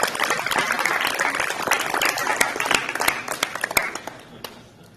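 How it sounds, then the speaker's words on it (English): Scattered, moderately loud clapping from a small crowd at a high school signing day, with distinct sharp claps that thin out and fade toward the end. "Another round of applause."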